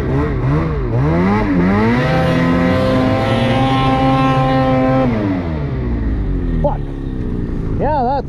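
A Ski-Doo 912 snowmobile engine revving hard in deep snow, loud and close, pitch rising and falling, then holding a high steady roar before dropping, with a final rev at the end.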